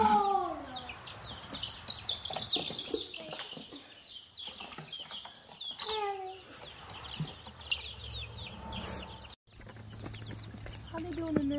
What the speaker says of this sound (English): Hey, little chickens.